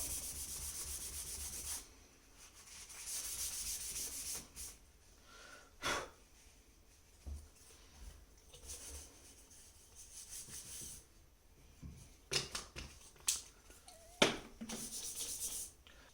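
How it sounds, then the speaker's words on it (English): A cloth dampened with alcohol rubs sticker residue off a VFC MP7 gas blowback airsoft gun, producing intermittent close, quiet scrubbing bursts separated by pauses, with a few brief sharper taps and handling noises, no talk. "now we're going to clean that little bit of residue with a bit of alcohol"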